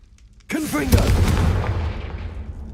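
Confringo fire blast spell in Hogwarts Legacy, a single sharp booming explosion that rings out and decays over about two seconds, with a voice calling out just as it starts.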